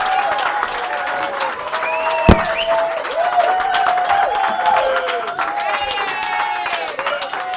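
A crowd claps and cheers to welcome a DJ onto a stage, a dense, continuous wash of applause with whoops and a sharp bang partway through, voices mixed into the noise throughout.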